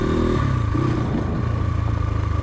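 A motorcycle engine hums and rumbles steadily while riding on the road, close and continuous with a low pulsing drone.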